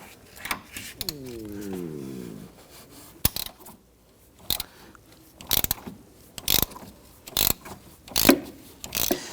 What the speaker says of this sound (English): or you can use your ratchet like I'm doing.